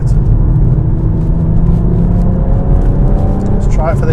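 A car engine pulls hard out of a corner after braking and a third-gear change, a steady loud rumble building under continuous talk.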